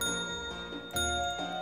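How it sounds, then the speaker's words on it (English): Bell in the Five Nights at Sonic's: Maniac Mania video game rings clearly twice in quick succession, bright metallic tones that leave a sustained ringing over a constant background hum. "Ring the bell."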